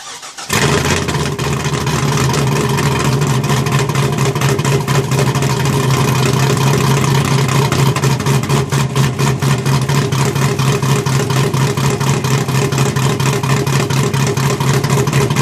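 A 2005 Pontiac GTO with a 6.0 engine, big cam, and Magnaflow mufflers fires up from cold with exhaust cutouts half open, then settles into a loud, choppy, lumpy idle that runs steadily to the end.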